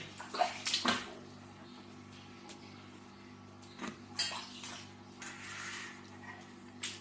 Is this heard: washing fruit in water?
yes